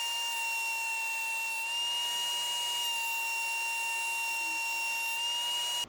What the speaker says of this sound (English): here's me cutting down some of that stock on the table saw, and then running it through my benchtop planer.